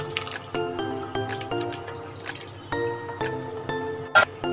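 Curdled milk strained through a clean white cloth drips and trickles steadily, with soft wet squishing and a brief splash near the end, heard close and fairly quiet.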